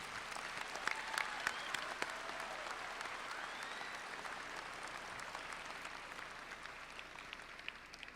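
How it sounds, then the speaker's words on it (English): An audience at a high school graduation ceremony applauds steadily, a dense patter of many hands clapping from a distance, fairly faint, holding level without fading. "Let's show them your gratitude by applauding them for all of their hard work"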